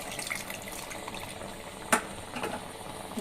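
Tamarind juice is poured into a pot of bisi bele bath, giving a faint, soft liquid trickle with a single sharper splash partway through, heard alone.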